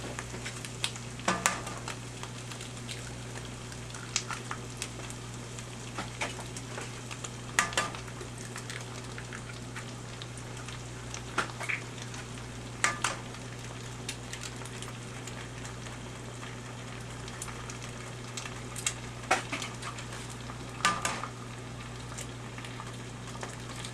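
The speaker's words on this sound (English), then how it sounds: "Now we'll crack some eggs in here." Eggs cooking in a pan make a faint, continuous sizzle under a steady low hum, broken by scattered sharp ticks and scraping clicks at irregular intervals, with no voices.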